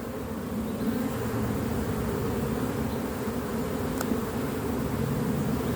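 Honey bees buzz in a dense, steady drone around an opened spring hive, the low hum filling the air close by and continuing without a break.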